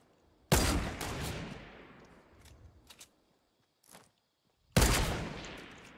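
Gunfire in Fortnite Battle Royale: a loud, close rifle shot with a long, fading echo, a few faint distant pops in the middle, then a second sharp shot near the end.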